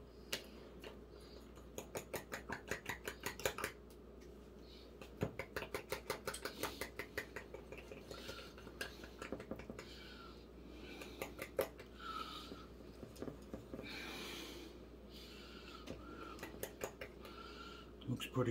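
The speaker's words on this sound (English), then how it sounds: "I'm scraping down the sides so I get it all off the wall." A spatula scraping waffle batter down the sides of a mixing bowl, rapid rhythmic clicking and scraping strokes in repeated bursts, close and fairly quiet, with some speech between them.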